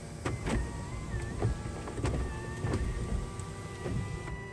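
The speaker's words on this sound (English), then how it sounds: "if you listen to these windows, it's just so smooth" The electric window motor of a Lexus RX 450h hums steadily at close range, with a few clicks and small knocks along the way, smooth and continuous.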